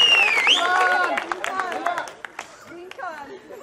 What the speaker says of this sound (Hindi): तो ફરી એક વાર તાળી, जोरदार ताली हो जाए दोस्तों